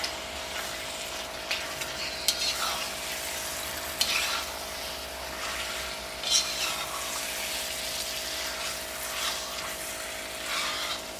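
About a kilo of chicken pieces sizzling in masala in a pan, a steady fry hiss with occasional scrapes and clinks from stirring, close and moderately quiet.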